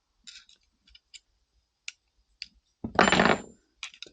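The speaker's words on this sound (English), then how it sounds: "Pliers, boop, pop it out." Pliers work on the magazine disconnect of a Star 30M pistol: a few small metallic clicks and ticks, then a short, louder scraping pop as the part comes out, followed by more light clicks.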